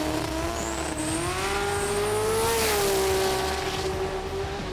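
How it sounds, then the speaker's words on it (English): A drag race car makes a solo pass at the Sydney Jamboree, its loud engine howling continuously with a wavering, rising then steady pitch. A thin high whine rides above it. "The QSR BMW out meant that Signorelli then had another solo"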